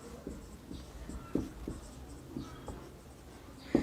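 Chalk or marker scratches and taps on a board during a class 12 physics lesson on reflection of light, a quiet series of short strokes and a couple of sharper knocks against room hum.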